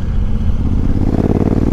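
A Honda Africa Twin CRF1000L parallel-twin motorcycle engine fitted with a Remus exhaust rumbles loud and close, its throaty, pulsing note building slightly toward the end.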